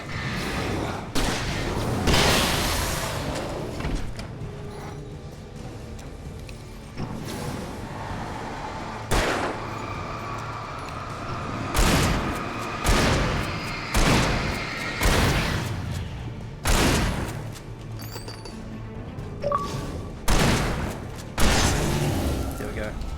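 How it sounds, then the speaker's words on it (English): A shotgun fires in the video game Alan Wake Remastered, a series of loud booming blasts at irregular intervals over a steady game ambience, with a player talking in between. "Man, that shotgun, so good for the big guys."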